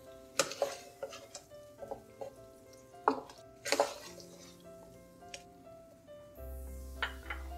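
Ginger garlic paste fries with chicken in a pot for Shahjahani chicken biryani, and a spoon stirs it in repeated scraping clinks and taps over a soft, steady sizzle.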